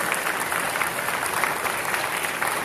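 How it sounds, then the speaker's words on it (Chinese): An audience at a school gathering gives a short burst of thick, steady applause for the teachers, loud and even from start to finish. "我们掌声感谢他们"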